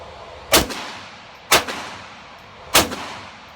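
Three loud, sharp handgun shots ring out about a second apart on an outdoor range during a 5-yard shooting drill, each crack followed by a short echo.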